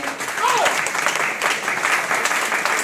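Sustained, fairly loud audience applause at a women's empowerment gathering, steady for about three seconds with a voice briefly audible over the clapping.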